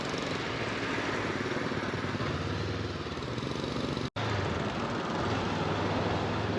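A motorcycle rides a mountain road between Luang Prabang and Vang Vieng in Laos, its engine droning steadily with constant wind rush. The sound cuts out abruptly for an instant before resuming.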